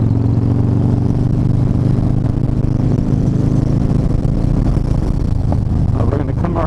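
A Harley Dyna motorcycle with a bad exhaust leak runs loud and close, a deep steady engine drone with slight revving toward the end.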